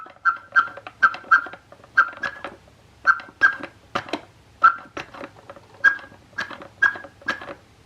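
Thomas toy train with a push-button dome on top, giving repeated short electronic chirping and whistle-like beeps in a bouncy rhythm, close and moderately loud, with no talking.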